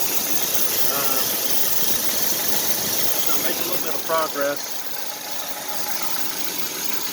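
A car engine idles steadily with a mechanical hum throughout as it turns the AC compressor, while someone talks briefly over it.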